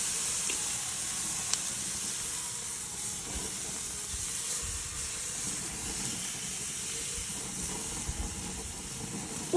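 Filet mignon steaks just flipped in a hot pan give off a steady, close hissing sizzle that holds even throughout, with no talking over it.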